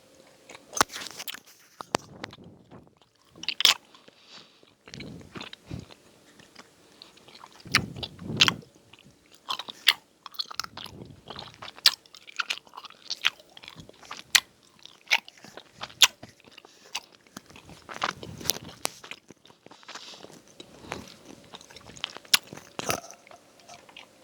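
Haribo grape gummy candy from a mega roulette pack is bitten and chewed up close, giving soft squishy bites and wet chewing in irregular bursts with pauses and no talk.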